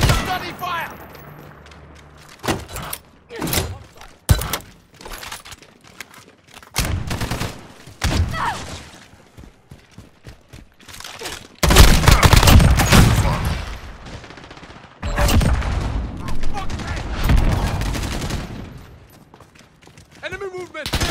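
Call of Duty Modern Warfare offline team deathmatch against bots, with separate sharp gunshots early on giving way to long dense bursts of automatic fire, loud and close, mixed with game sounds.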